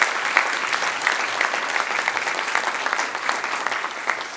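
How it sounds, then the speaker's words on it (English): An audience at a school student breakfast gives a steady, full round of applause for a high school orchestra, dense clapping throughout without letting up. "please join me in a round of applause for the North Atlanta High School Orchestra."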